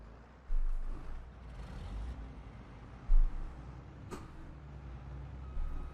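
A combine harvester engine starts up in Farming Simulator 22: a low diesel rumble with a few heavy surges and hissing bursts as it comes to life.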